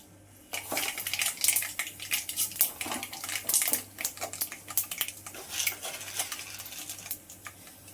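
Mustard seeds hit hot oil in a pan for rice vermicelli bath, setting off a busy stream of sharp pops and crackles with metallic clinks of utensils, close and irregular, without talk.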